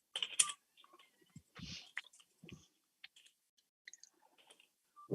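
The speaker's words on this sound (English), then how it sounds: "I'm typing my notes as well" Typing on a computer keyboard during a board meeting, a run of light, irregular key clicks and taps, close and fairly quiet, with brief pauses between bursts and no talk.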